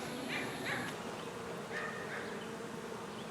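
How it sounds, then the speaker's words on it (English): A swarm of bees buzzes steadily in a dense drone, faint and continuous, with a few individual insects passing closer, around a top bar hive. "there's a lot of bees in there"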